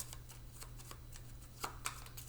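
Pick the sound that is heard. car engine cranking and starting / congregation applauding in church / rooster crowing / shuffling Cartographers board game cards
shuffling Cartographers board game cards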